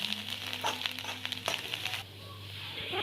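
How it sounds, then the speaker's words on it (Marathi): Bharangi leaf vegetable cooking in a covered pan over a low gas flame, giving a soft, steady sizzle with a few light clicks and taps. "आता हे बारीक गॅसवर भाजी जी आहे ती झाकून भाजायची आहे"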